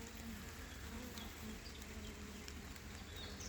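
Honey bees buzz around an open hive during an inspection, a steady, dense drone of many wings filling the air close by without any voices.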